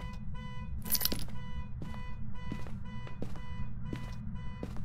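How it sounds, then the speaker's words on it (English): A car alarm beeps in a steady, evenly spaced series of sharp electronic pulses, close by and repeating throughout, over a low background rumble with no speech. "I'm over here standing next to a beeping car."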